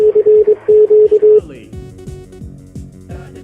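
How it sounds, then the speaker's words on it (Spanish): Morse code CQ calling signal sent as a steady, clipped sidetone on a single pitch, a quick run of dah-dit-dah-dit and dah-dah-dit-dah beeps played loud and alone for about a second and a half before a voice takes over. "la señal de llamada en Morse que corresponde a las letras CQ, Charlie, Quebec"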